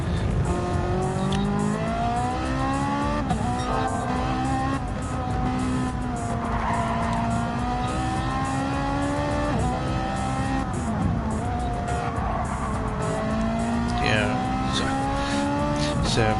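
Race cars in the Gran Turismo 7 racing game, including a Volkswagen Beetle battling Ferraris: engines drone steadily, revving up and down through the turns, with recurring tire squeals, loud and continuous for the whole stretch.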